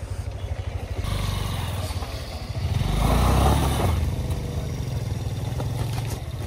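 Motorcycle engine idling and briefly revving as the bike is parked at a hilltop lot on Parasnath Hills, Jharkhand, a close rumbling chug that swells in the middle then settles.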